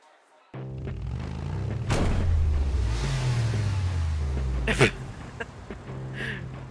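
Car in the video game ShelfLife starting up and revving, then driving and parking, with a loud engine drone, a couple of thumps, and a voice speaking partway through.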